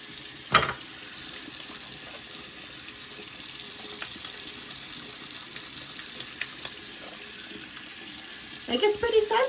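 A bar of soap from a soap kit is lathered under a running tap, water hissing steadily with brief splashes and some rubbing near the end.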